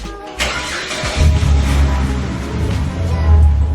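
Nearby car engine cranks and catches, then settles into a loud, steady low idle with slight swells in revving, heard at close range outdoors.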